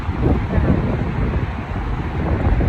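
Gusty wind buffets the microphone outdoors on a chilly day by a lake in Bemidji, a steady low rumble filling the whole stretch with no clear talk.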